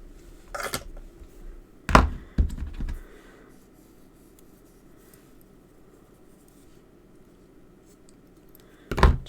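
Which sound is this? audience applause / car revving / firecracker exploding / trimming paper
trimming paper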